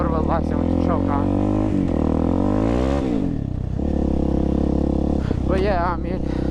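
A stock Honda TRX450R ATV engine idles and runs at low RPM nearby. The revs are uneven, rising and falling in short bursts against a rough, steady throb.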